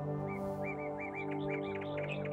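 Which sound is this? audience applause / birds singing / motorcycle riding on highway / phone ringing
birds singing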